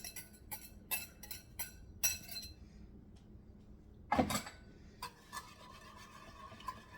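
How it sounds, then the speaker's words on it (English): Beaten egg is whisked into milk in a bowl, with quick rhythmic clinks against the sides in bursts, a louder scrape midway, then lighter taps, close and quiet. "I'm going to go ahead and add my egg into my milk, and then I'm just going to whisk it together"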